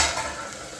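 Tomatoes fry in a pan with a steady, bright, close sizzle that fills the brief moment without pause.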